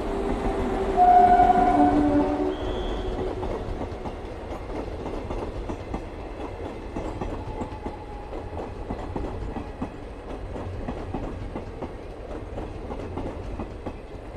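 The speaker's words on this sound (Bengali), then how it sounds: "হাজারদুয়ারি এক্সপ্রেস পাস করলো" Hazarduari Express passes on the Nashipur–Azimganj line, opening with a horn blast before a sustained rumble and rhythmic clatter of wagons over the rails, steady and fairly close with no voices.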